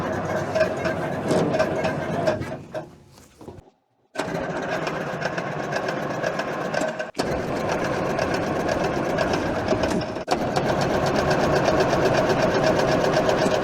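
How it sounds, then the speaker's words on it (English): A 1960s logging yarder motor cranks and runs with a rapid, buzzy mechanical clatter, briefly sagging and cutting out before catching again and settling into a steady loud rattling run. "see if we can start this motor and get hydraulics going for the outriggers"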